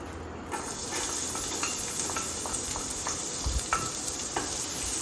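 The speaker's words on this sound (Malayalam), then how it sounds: "അപ്പോൾ നമ്മുടെ എണ്ണ ഇവിടെ ചൂടായിട്ടുണ്ട്. അപ്പോൾ നമ്മൾ അതിലേക്ക് ഗാർലിക് ഇടുവാണ്." Chopped garlic hisses and sizzles in hot oil in a pan while pasta is being made, a steady frying crackle with scattered stirring clicks and scrapes throughout.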